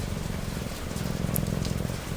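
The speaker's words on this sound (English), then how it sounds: "watching the rain" Rain falling outside at night onto empty streets, a continuous close patter with soft scattered drops over a low rumbling bed, steady and unbroken, with no talk.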